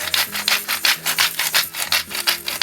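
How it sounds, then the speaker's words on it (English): A salt grinder twists in quick, even strokes, each turn giving a gritty rasping crunch that repeats about every quarter second, close and fairly loud. "a good grind of salt"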